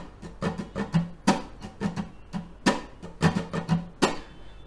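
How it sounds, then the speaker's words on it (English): Rhythmic strumming on muted guitar strings, with dry percussive scratches falling in a steady, syncopated groove, close and fairly soft, with no talking. "just grooving with your right hand first and playing on the muted guitar"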